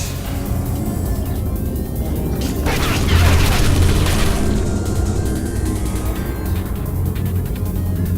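Automated turret gunfire rattles in Portal 2, a dense rumbling burst swelling around the middle amid booming ambience, with frantic voices calling out over it.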